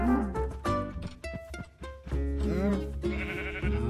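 Sheep bleating in the Minecraft video game, several wavering cries in quick succession over a busy backdrop of game sounds and music.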